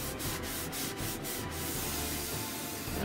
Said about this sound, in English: And I'm gonna rub all this excess off.